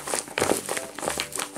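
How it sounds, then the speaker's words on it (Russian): Homemade paper squishy toy, a Ladybug-themed LOL doll, rustling as it is squeezed: soft, close, repeated crinkling bursts in an uneven rhythm, with no talk. "Друзья, они так шуршат, прикольно."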